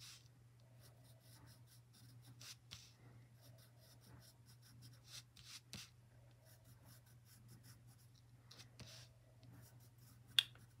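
Graphite pencil shading onto an outer paper band of a tangle drawing; soft, faint, intermittent scratchy strokes over a steady low background hum.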